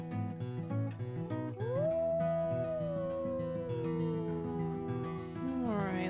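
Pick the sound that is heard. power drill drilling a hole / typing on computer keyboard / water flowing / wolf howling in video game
wolf howling in video game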